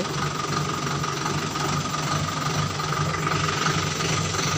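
An ECOMET 1012 dump truck's engine idles steadily and loudly with a constant throbbing rumble and mechanical knock while the tipper is raised, holding without a break.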